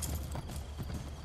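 Horse hooves galloping in Assassin's Creed Brotherhood, a steady rapid clip-clop under continuous game ambience, loud and close throughout with no talk.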